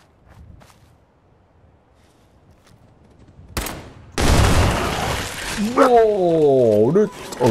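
Gunfire in the video game Fallout 4 on survival difficulty: after a quiet stretch, a sharp blast hits, then a loud, sustained burst of rapid shots erupts, overlaid by a rising and falling creature roar.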